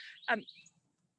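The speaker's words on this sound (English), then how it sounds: "There's a Carolina wren calling, and there was a cardinal as well." A single short, bright bird call rises and falls near a woodland trail where a Carolina wren and a northern cardinal were calling, with faint low rumble after it.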